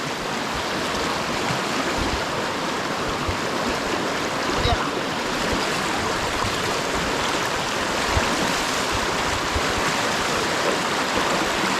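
A strong river swollen after a landslide upstream rushes past in a dense, steady roar of flowing water. It stays loud and close throughout, with no talking.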